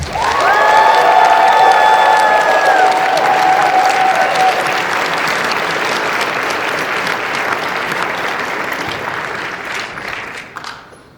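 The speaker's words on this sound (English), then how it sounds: "Please give a warm round of applause to Lamont Price." A live comedy show audience at PAX East 2020 bursts into loud, sustained applause for a comedian, a dense clapping roar that holds for several seconds and then gradually fades out.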